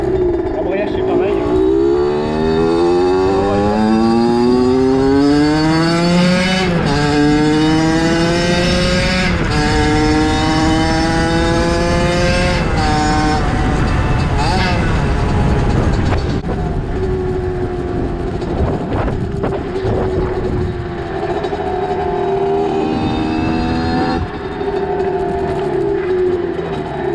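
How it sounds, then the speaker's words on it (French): Stock 50cc motorcycle ridden on the road, its two-stroke engine revving loudly with rising and falling pitch through gear changes, continuous and close throughout. "Là c'est bizarre de reconduire une 50 d'origine."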